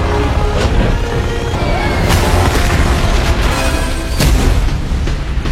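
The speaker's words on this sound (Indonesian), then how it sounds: "kedua helikopter itu bertabrakan dan meledak" Helicopters colliding and exploding in a superhero action film: a dense, loud continuous roar of blasts and booming impacts with sharp bursts near two and four seconds, rumbling low end throughout.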